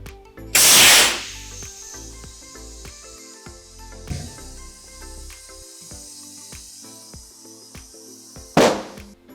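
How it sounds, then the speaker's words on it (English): Two loud bursts of compressed air from an inflator rush into a tire to seat it on the rim. The blasts come near the start and again near the end, with a softer hiss and clanking in between. "We connect air inflator to valve and start to blow air inside."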